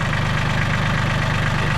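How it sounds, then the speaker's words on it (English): A small New Holland TC30 tractor engine runs at a steady, loud idle, a close, even rumbling chug with no voices over it. "it's amazing how much power this little engine puts out"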